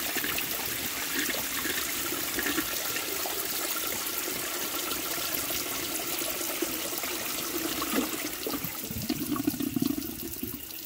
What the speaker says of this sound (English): let's give it a flush.